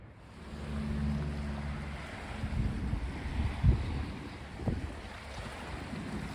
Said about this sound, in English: the wind is blasting so hard that I can really clearly hear the waves through it